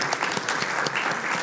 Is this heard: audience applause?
yes